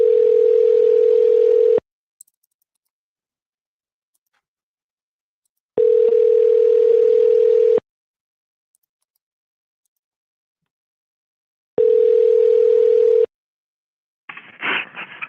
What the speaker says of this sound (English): See if he picks up the phone.